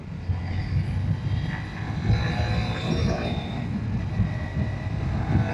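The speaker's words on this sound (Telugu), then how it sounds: "సో ఇక్కడ నుంచి మనం బైక్ని అయితే డ్రాగ్ చేద్దాం ఒకసారి" A 2026 Honda Shine 125 Limited Edition motorcycle accelerates hard in a drag run, its engine a steady, dense roar mixed with wind rush that holds at a constant level throughout, with no voices.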